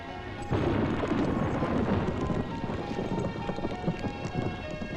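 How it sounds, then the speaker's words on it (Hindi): A heavy thunderstorm with rain pours steadily and loudly throughout, with deep rumbling thunder underneath and no talking. "कमाल का तूफान आया यहाँ।"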